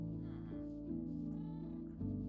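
A cat in a video game gives a few soft, repeated meows over a steady, droning layer of game sound, fairly quiet and with no speech.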